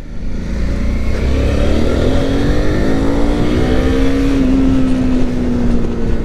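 Suzuki V-Strom 650 XT motorcycle accelerating on a muddy ride, a loud steady engine drone whose pitch climbs gradually as it pulls, heard close with no talk over it.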